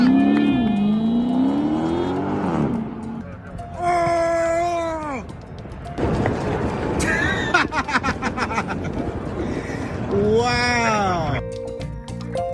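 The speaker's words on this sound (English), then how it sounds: "This guy was showing off by doing donuts in the street" A car doing donuts in a street revs its engine in repeated rising and falling whines, loud and close, with crowd chatter and voices around it.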